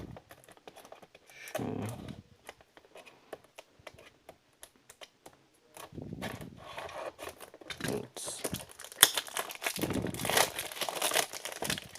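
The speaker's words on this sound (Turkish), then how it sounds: "Şöyle falçatamızı alalım. Açalım." A utility knife slices open a cargo parcel, heard as bursts of crinkling, tearing cardboard and tape with short pauses between them, close and moderately loud.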